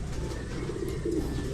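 Racing pigeons coo softly inside a loft, low throaty murmurs rolling together over a steady background hum.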